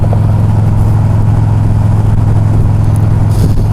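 Car interior rumble while driving a Los Angeles freeway: a steady low road-and-engine drone fills the whole stretch at close, even loudness, with no talking.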